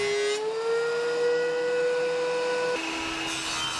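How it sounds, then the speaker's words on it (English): A thickness planer runs with a steady high whine and hum as a wooden board passes through, the tone dropping slightly near the end, loud and continuous with no talk. "the next step is to use the thickness planer"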